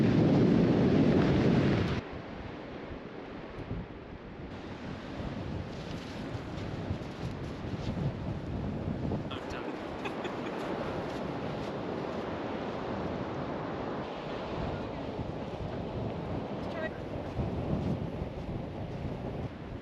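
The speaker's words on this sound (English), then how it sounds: "It's a bit windy." Wind gusts across a beach, a loud buffeting roar hitting the microphone at first, then a steady broadband rush that holds for the rest.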